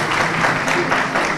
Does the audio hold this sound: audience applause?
yes